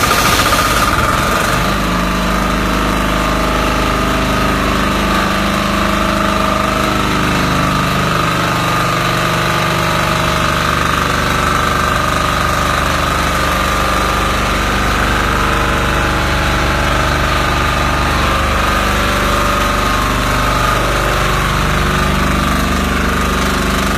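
A bush fire sprinkler system's pump engine runs steadily throughout, a loud, continuous mechanical drone with rapid knocking vibration that holds close and unbroken, with no talk over it.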